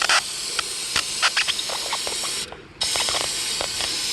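Aerosol lubricant sprayed into the door latch of a Jeep Wrangler YJ hard door, short hissing bursts, one long spray broken by a brief pause, close up.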